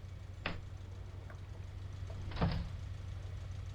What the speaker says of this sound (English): It is indeed doors that I'm hearing.